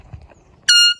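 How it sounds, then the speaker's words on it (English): A mini air horn gives one short, loud, piercing blast lasting about a quarter second after a brief low rustle. "air horn blowout."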